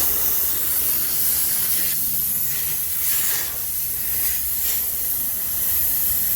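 Pressurized refrigerant gas hisses steadily out of an HVAC line during a vacuum check on a replaced, acid-burned compressor system, a loud continuous spray close by with slight surges, and no talking.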